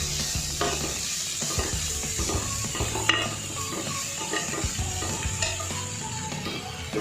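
Boiled potatoes and chopped tomato stirred and frying in a pan, with a steady sizzle and scraping spoon strokes running throughout, close and moderately loud, with occasional light clinks of utensil on metal.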